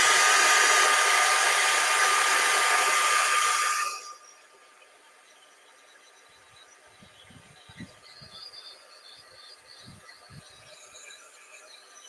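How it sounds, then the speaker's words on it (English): A heat embossing tool blows with a steady, loud hair-dryer-like whoosh for about four seconds, then switches off. Near-silence follows, with only faint soft knocks. "So I'm just going to heat emboss this."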